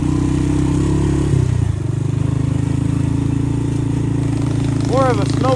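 A minibike engine drones loud and steady on a rough dirt trail, its low buzzing note shifting slightly as it jolts over bumps, while a voice talks over it.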